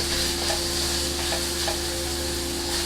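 Chili sizzling and frying steadily in a hot pan for pineapple fried rice, a dense continuous crackle with faint stirring scrapes, close and fairly loud, with no voices.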